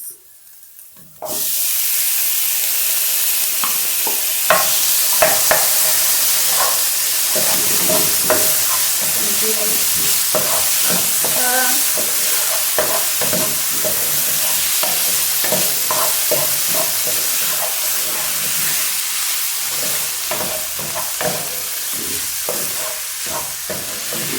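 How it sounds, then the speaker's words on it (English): Onions and tomatoes for an okra dish sizzle and fry steadily in a pan, a continuous loud hiss with occasional stirring clatter, starting abruptly after a brief quiet moment and running alone without speech. "So we're going to let the tomatoes to cook for a few minutes."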